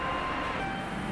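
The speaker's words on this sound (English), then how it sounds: "we're catching the train to Sanamiya" A train carries passengers toward Sannomiya in Kobe, Japan, giving a steady close rumble of rail travel with a faint high whine and no talk.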